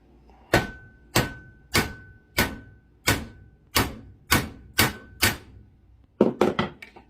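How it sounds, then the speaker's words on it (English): A hammer peening a ratchet switch against the small anvil section of a bench vise, striking about ten sharp metallic blows at a steady rhythm, then a quick cluster of lighter taps at the end. "And then peen it down."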